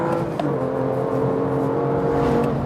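BMW M2 engine droning hard on a race track, a steady, loud, sustained mechanical roar under acceleration, close and continuous with no voices.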